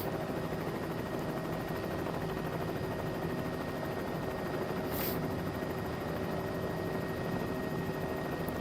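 A helicopter drones steadily through low mountain flying in a flight video game, a dense, even rotor and engine roar that holds constant the whole time with no voices.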